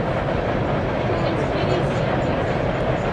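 A long freight train rumbles steadily across the High Line Bridge in Valley City, a continuous loud rolling roar of many cars with no breaks.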